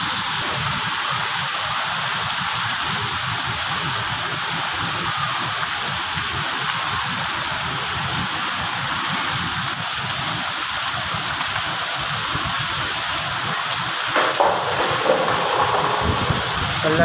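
Heavy torrential monsoon rain pours steadily in Kallar Syedan, Rawalpindi district, Pakistan, a dense, loud, unbroken hiss that fills the whole stretch with no voices.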